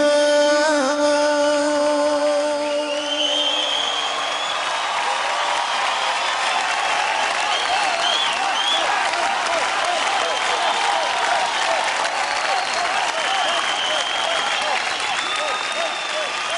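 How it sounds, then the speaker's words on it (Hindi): A TV dance competition studio audience breaks into sustained applause and cheering as a song's final notes fade, a loud, continuous roar of clapping lasting over ten seconds. "जोरदार तालियां"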